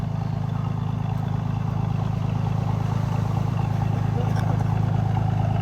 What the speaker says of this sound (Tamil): துறைமுகத்தில் ஒரு போட் ஒன்று போகுது பாருங்கள்